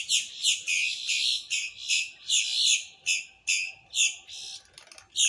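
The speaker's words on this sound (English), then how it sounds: "Whatever they are, big black birds." Big black birds with chicks give a steady run of loud, close, rhythmic calls, about two per second, each a bright hoarse note repeated over and over with little pause, heard alone over a quiet outdoor background.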